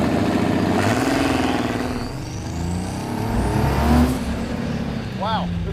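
A 1971 Datsun 240Z with a Chevy 4.3 V6 and a Ford diesel pickup turbocharger drives an autocross course, its engine revving and shifting pitch up and down, loud and close, with voices talking over it.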